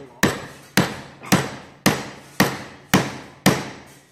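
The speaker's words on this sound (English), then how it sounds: "Chisel all the way in, all the way to the bottom." Mallet blows drive a chisel straight down into wood while cutting a mortise, eight sharp, evenly spaced strikes about half a second apart, close and loud with short ringing decay.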